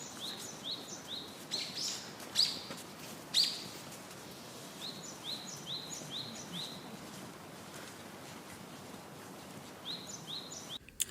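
Pet parrots chirp in short, repeated high bursts, some clustered in quick series, over a soft indoor background at moderate distance, with a brief knock near the end.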